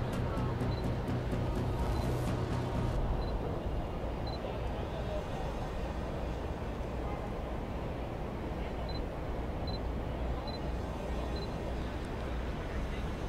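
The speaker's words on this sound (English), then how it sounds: "I know that shutter sound is terrible" Rapid burst of camera shutter clicks from a Sony camera fitted with an FE 90mm macro lens, a quick run of sharp ticks in the opening seconds, then sparse clicks over steady street-like background noise.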